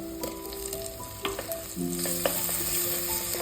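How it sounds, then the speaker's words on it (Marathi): Onion sautéing in two spoons of oil in a pan for a chicken curry with spinach, a steady close sizzle and hiss with occasional clinks of a utensil against the pan, no talking. "दोन चमचे तेल टाकलेले मी त्याच्यामध्ये आपण आता कांदा परतून घेऊयात"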